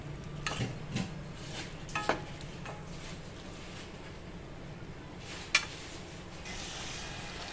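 Chickpeas being stir-fried with salt and masala in a pan, a quiet, steady sizzle broken by a few soft scraping stirs and one sharp clink of a utensil against the pan.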